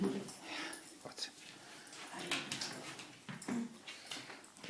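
A dog whimpers and gives short yips in uneven bursts close by, with soft voices faintly in the background.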